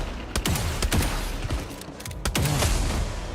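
Pistols fire in the side-scrolling game Replaced: a handful of sharp, punchy shots spaced irregularly over a busy, dense game backdrop.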